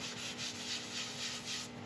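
A hand-held buffing pad rubs against an elm bowl spinning on a lathe, giving a steady, close, breathy friction hiss that swells and fades in a gentle rhythm.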